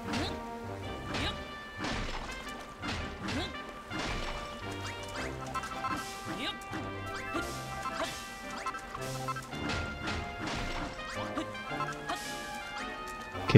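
Repeated smashing and whacking hits as debris is broken apart with smashing gloves in Dragon Quest Builders 2, sounding over busy game music with chimes and tones, a steady run of crashes spread across the stretch.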